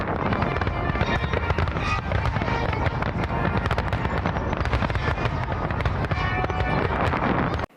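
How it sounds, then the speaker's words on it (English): Fireworks burst continuously in a dense, loud barrage of crackling pops and booms for about eight seconds, with no clear speech over them. "Hey, how about those fireworks? Weren't those awesome?"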